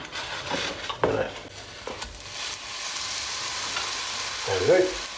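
Kebab burger patties fry in a pan with a steady, close sizzle, broken by a few scraping and clattering strokes of a utensil against the pan.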